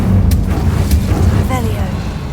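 A burst of Incendio fire magic in Hogwarts Legacy erupts in a loud whooshing blast with a couple of sharp crackling flares, while a voice talks over part of it.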